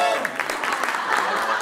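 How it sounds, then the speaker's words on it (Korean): A studio crowd on a Korean variety game show claps in a brief, dense burst of applause, mixed with some background voices. "박수!"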